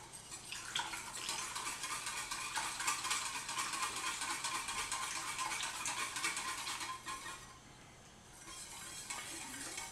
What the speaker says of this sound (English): this milk is already at a simmer, and I'm going to whisk the slurry into it